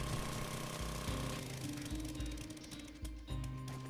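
Drilling through blocks in the survival game 7 Days To Die produces a loud, continuous mechanical grinding with rapid, regular hammering pulses throughout.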